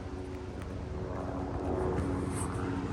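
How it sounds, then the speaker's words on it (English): A helicopter working over a heli-logging cut-block flies overhead, its steady rotor and engine drone filling the air and swelling slightly as it passes. "Let's see if we can see the chopper."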